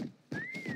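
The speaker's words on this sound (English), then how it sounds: "You hear the whistle?" A thin, rising-then-falling whistle tone in the Prop Hunt video game, faint and brief, sounding through soft background noise.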